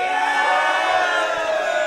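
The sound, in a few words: arena crowd cheering for Sean Strickland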